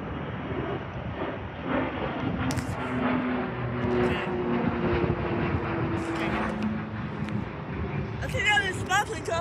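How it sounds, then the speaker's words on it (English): A B-190 airliner rolls along a runway at an airport, its steady engine drone sustained throughout, somewhat distant and partly masked by nearby people talking. "I think that is my plane coming from that runway"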